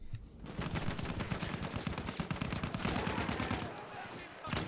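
Rapid automatic gunfire from a Battlefield 1 multiplayer match, dense bursts of shots crackling almost continuously for several seconds, loud and close with a brief lull near the end.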